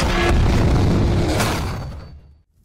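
A tank explodes in World of Tanks with a loud, close blast and rumbling burst that swells again briefly before fading out into silence; no voices.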